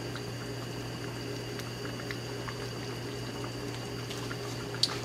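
Chile broth for Mexican deviled shrimp boiling in a pot, a steady low simmering hiss and bubble with a constant hum underneath and one brief clink near the end, no talk.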